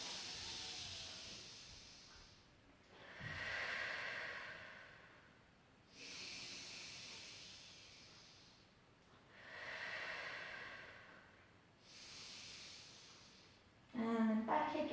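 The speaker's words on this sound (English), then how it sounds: "And again, big breaths in and out." Slow, deep breaths in and out during a Pilates session, heard as five soft, even airy swells spaced a few seconds apart in a quiet room.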